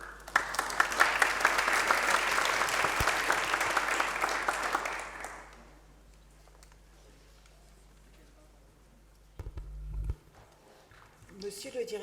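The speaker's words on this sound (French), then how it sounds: "Vous pouvez l'applaudir." Applause from an audience at a technical network meeting in Pas-de-Calais, France: brisk, full clapping for about five seconds that dies away into a quiet room, broken later by a single soft thump.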